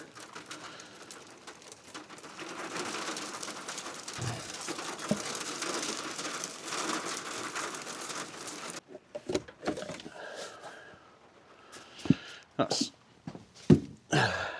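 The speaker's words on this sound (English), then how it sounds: "Nice, it's just started hailing." Hail falls outside during a car repair, making a steady, soft, dense patter for several seconds that then thins into scattered, sharper hits and gusts.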